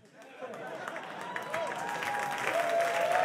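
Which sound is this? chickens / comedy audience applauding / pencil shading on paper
comedy audience applauding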